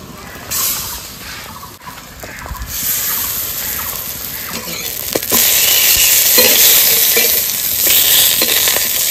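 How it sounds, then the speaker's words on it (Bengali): Pumpkin flower fritters frying in oil, a loud, close sizzle that swells as they are stirred, with occasional scraping and clinks and no speech. "ফুল ভাজার জন্য তেল দিয়ে দিচ্ছি"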